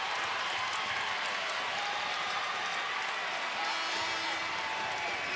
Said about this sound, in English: And the crowd going crazy because walk-on Rem Bakamis is coming into the game